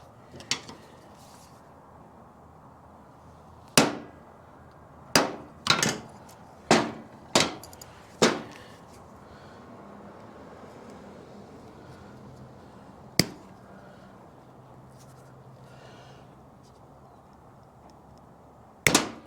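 Sharp metallic hammer blows drive at a tight pin on a 1986 Yamaha YZ250 dirt bike: a single tap, then a quick burst of about six strikes, one more later and a final knock, loud and close in a quiet workshop.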